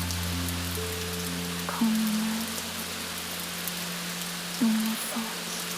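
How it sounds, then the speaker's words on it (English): Steady rain falling on a quiet Tokyo night as a soft, even hiss, under a calm spoken voice and faint sustained tones. "Quiet night, no more noise, just the rain."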